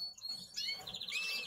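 Pet canaries of satiné and agate varieties chirping in a breeding setup, with a few quick, high tweets and short trills overlapping close by at low volume, no talking.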